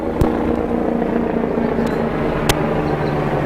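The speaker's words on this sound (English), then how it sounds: "It's the helicopter, it's coming for you." A helicopter drones in a steady, fairly loud low hum throughout, broken by a few sharp clicks.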